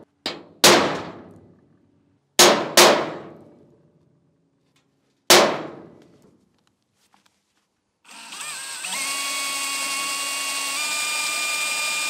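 Metal-on-metal hammer strikes on a center punch set into steel parts of a cheap truck bed crane, three quick pairs of sharp ringing clangs with decaying tails, then a steady power-tool whine.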